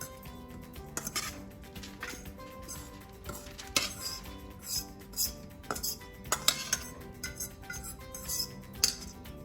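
Cauliflower and parmesan pizza crust mixture is scooped out of a bowl onto a tray in a kitchen, giving repeated metal utensil clinks and scrapes against dishes in an uneven rhythm, close and fairly loud, with no talking.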